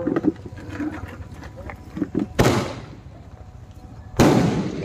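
Two sharp, loud firecracker bangs go off a couple of seconds apart, each trailing a crackling decay, over a murmuring crowd in the background.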